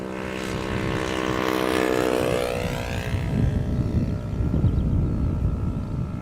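An Air France Boeing 787 Dreamliner arrives at Schiphol Airport, its loud engine roar and whine sweeping past and then settling into a lower, steady rumble that fades slightly.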